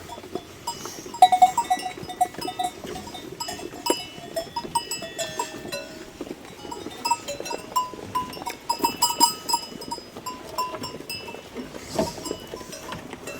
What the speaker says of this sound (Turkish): Tamam 20 tane kuzumuz.